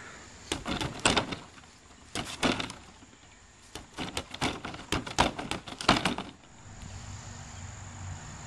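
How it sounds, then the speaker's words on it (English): Repeated kicks thud against a Wavemaster freestanding training bag, its base wobbling and knocking after each strike, in several quick bursts separated by short pauses, close and fairly loud with no talking. "And now kick. Note how much the base wobbles."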